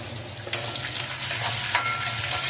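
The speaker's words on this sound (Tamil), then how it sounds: "வெங்காயம் கொஞ்சம் வதங்கட்டும்." Chopped onion sautés in hot oil in a pan for broken wheat upma, giving a steady close sizzle broken by several scraping stirs of a spoon, with no talking.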